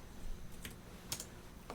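A few quick, soft keystrokes on a computer keyboard while entering a value in CAD software, close and faint over low background hiss.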